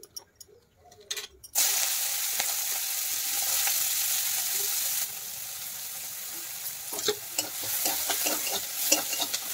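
Sliced onions fry in a pan for a mustard rohu fish curry, a loud continuous sizzle starting abruptly after a few quiet knocks, later joined by repeated utensil scrapes and clinks, no talking.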